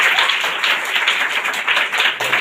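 Steady, dense clapping from a church congregation during a Telugu sermon, many hands together forming a loud continuous wash with no voices over it.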